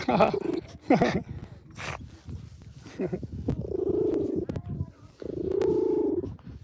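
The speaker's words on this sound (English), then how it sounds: "She's growling because I picked her up." A dog's low, rumbling growls in two sustained stretches, close by, while being held, with a person talking briefly in between, outdoors atop Scotts Bluff.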